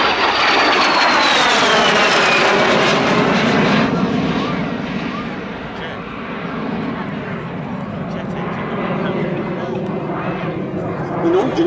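A de Havilland DH 100 Vampire jet roars loudly past during a flying display, its broad engine noise sweeping down in pitch as it passes, then holding a sustained rumble.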